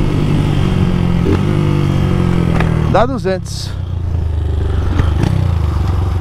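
A Start 230 motorcycle engine idles and revs steadily on a street, a loud continuous rumble with a brief rising whine partway through, while someone talks over it.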